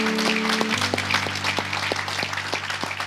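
A church congregation claps and cheers in praise during a service while a sustained keyboard chord holds underneath, with steady rhythmic claps running throughout.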